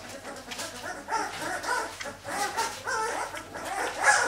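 A five-week-old puppy whimpers and gives small yips and barks in a series of short, close bursts.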